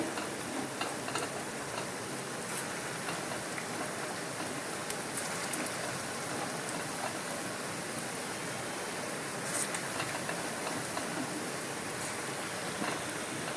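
Elephant foot yam fritters fry in hot oil, a steady, even sizzle and crackle that holds at moderate level throughout with occasional faint pops.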